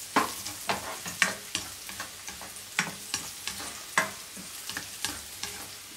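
Ginger frying in a pan while being stirred, giving a steady soft sizzle broken by repeated sharp scrapes and clinks of a utensil against the pan at an irregular rhythm, close up.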